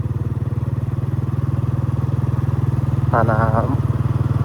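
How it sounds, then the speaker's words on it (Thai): A motorcycle engine hums steadily and close for the whole ride near Champasak University in Laos, with a brief higher tonal burst partway through. "ไปบัดนี้เฮาสิลองขี่รถ เอาไปเลาะชมเบิ่งบรรยากาศ"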